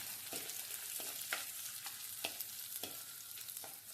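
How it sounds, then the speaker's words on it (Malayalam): Slit green chillies fry in hot oil for a fish curry, giving a steady, close sizzle broken by a few sharp stirring scrapes about every half second. "ഇതിലേക്ക് കീറി വെച്ചിട്ടുള്ള പച്ചമുളക് ഇടാം"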